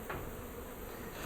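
Wild bees buzz as field bees fly back to a hive that sits in a cupboard, a dense continuous hum that stays steady and fairly quiet, with nobody talking.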